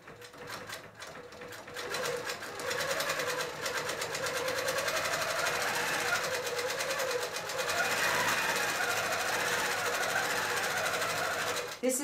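A Grace Q'Nique 21 Pro longarm quilting machine stitches binding onto a quilt, its rapid needle chatter starting after a brief pause and then running steadily and loudly until an abrupt stop at the end.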